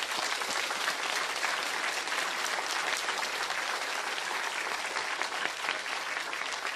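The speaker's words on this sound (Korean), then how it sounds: "다시 한번 큰 박수를 올려주십시오." A large audience at a religious ceremony breaks into loud sustained applause, dense even clapping from many hands that continues without pause.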